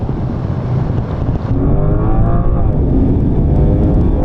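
A BMW M3 Touring and an Audi RS6 launch in a drag race, their engines roaring loud and close as the revs climb steadily in pitch after a brief lull, with no talk.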